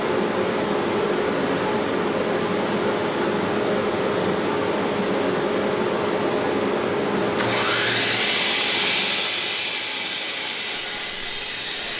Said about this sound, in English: Here I'm cutting a 45-degree dado into the post that will accept stabilizing 2x4 for the legs.